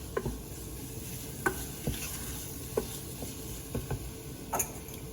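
Quiet stirring in a pan as red chili powder is mixed into an Indian-style tofu curry, with scattered soft scrapes and taps over a low, faint sizzle.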